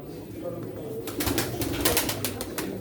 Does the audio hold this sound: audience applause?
no